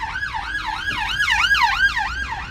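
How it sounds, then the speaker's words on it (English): Wailing emergency sirens rising and falling in a steady rhythm, with a second siren briefly overlapping, fairly loud and passing nearby. "there's a ambulance, police car."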